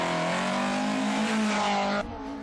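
A rally car tears through a stage of the West Cork Rally, its engine screaming at high revs for about two seconds before the note drops sharply as it passes, loud and close with no voices.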